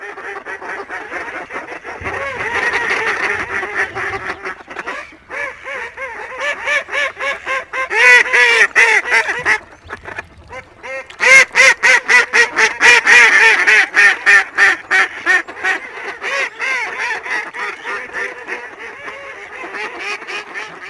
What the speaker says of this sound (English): The sounds you're hearing now are live digital recordings of mallards in their natural environment.